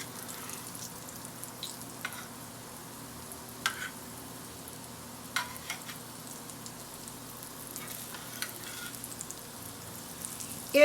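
Homemade donuts fry in hot grease, a faint steady sizzle with occasional soft pops and crackles, quiet and continuous with no talking.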